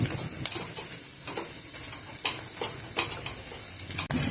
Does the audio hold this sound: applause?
no